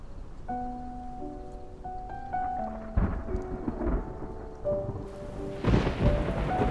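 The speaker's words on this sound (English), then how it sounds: "It's raining! Let's head inside." Video game rain falls as a steady wash under soft musical tones, with two heavy thunder rumbles breaking in partway through and near the end.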